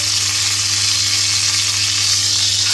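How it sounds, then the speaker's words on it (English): Fat on a pork steak sears in a pan turned down to medium, giving a steady, close, continuous sizzle with no break. "Get a bit of sear on that fat there."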